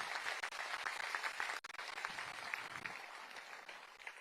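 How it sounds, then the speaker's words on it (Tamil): An audience at a women's self-help group award ceremony in Tamil Nadu applauds the winners, sustained dense clapping heard somewhat distant and soft, continuing steadily with a brief dip partway. "அவர்களுக்கு நம்ம அனைவரும் சார்பாக பாராட்டுகளை கைத்தட்டுகளை தெரிவிப்போம்"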